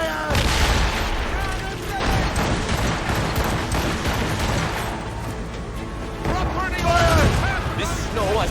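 Ship cannons fire in a naval battle in Assassin's Creed Rogue, dense booming volleys rolling on continuously over music and battle noise, with a character shouting orders in the mix.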